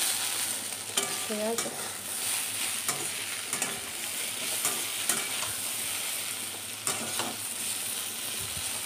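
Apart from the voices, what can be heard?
beans frying in a pan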